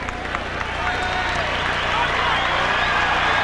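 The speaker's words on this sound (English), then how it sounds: "you hear the roar of the crowd" A basketball crowd roars at a Rockets–Trail Blazers NBA game in Portland's Rose Garden arena, a dense, steady wash of cheering that swells slightly louder over a few seconds with no clear break.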